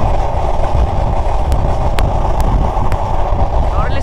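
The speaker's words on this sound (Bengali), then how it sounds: "আমাদের ট্রেন এখন অলমোস্ট 96-97 কিলোমিটার গতিতে চলতেছে।" Inside the Rupashi Bangla Express on a new route, running at about 96 km/h. A loud, dense rumble and roar continues without a break, with a few faint high metallic ticks.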